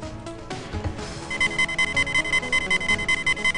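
A rapid pulsing electronic alarm from the video game Crusader: No Remorse kicks in after brief game sounds, a loud, steady string of evenly spaced beeps repeating quickly to the end.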